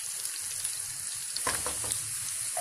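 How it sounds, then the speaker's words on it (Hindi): Onions frying for chicken kofta, a steady close sizzle in the pan with a few soft stirring scrapes and clinks partway through, no talking. "प्याज हमारा फ्राई हो रहा है"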